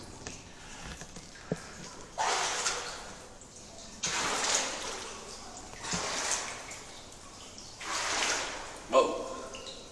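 Boots slosh through water inside a cave in repeated surges about every two seconds, each stride a splashing swirl close to the microphone, with someone talking between steps.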